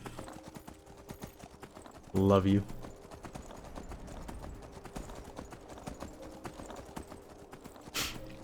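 Rhythmic hoofbeats of a horse in The Elder Scrolls V: Skyrim clop steadily throughout at moderate volume while riding up a mountain, joined briefly by a short spoken phrase and a faint later whoosh.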